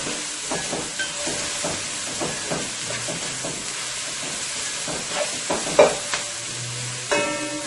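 Onion, garlic and chili pepper fry in olive oil with a steady close sizzle and hiss. Stirring scrapes and clinks come at irregular intervals, and there is no talk.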